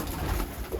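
Short burst of soft cooing from Iraqi red pigeons kept in a loft in Germany, close by and steady, lasting under a second with no voices.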